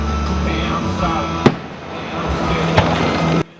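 Two sharp booms of fireworks ring out over a steady background rumble, one loud and one a bit softer, with a low murmur of voices.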